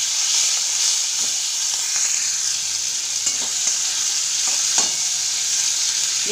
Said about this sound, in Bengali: এই তেলের মধ্যেই ভেজে নেব চিংড়ি মাছগুলো।